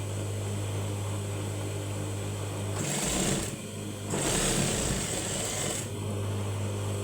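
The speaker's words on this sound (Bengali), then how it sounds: "দেখুন আমি কীভাবে ঘুরিয়ে ঘুরিয়ে সেলাই করছি" Sewing machine stitching a kameez seam, a steady close motor hum with two louder bursts of fast running stitches as the fabric is turned.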